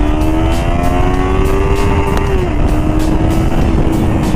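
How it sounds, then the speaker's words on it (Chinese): A 2024 KOVE 321R motorcycle engine revs loudly and close, a sustained high-pitched whine that climbs, briefly dips and holds again while riding. "我们就正常骑行，然后突然要给油了"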